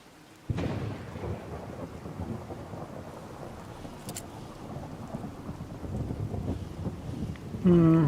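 Rain pours steadily in Fallout 4 as a deep thunder rumble breaks in and rolls on, with a brief sharper crack later and a tonal game sound near the end.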